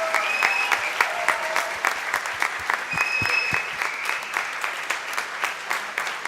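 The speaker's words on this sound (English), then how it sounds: "Can we have a big round of applause for our own home team?" An audience at a valedictory function claps for the home team in a sustained round of applause, with dense, even clapping that continues throughout.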